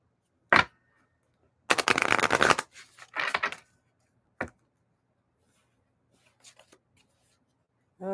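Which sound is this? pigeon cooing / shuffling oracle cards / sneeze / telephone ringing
shuffling oracle cards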